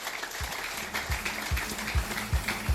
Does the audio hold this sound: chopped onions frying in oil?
no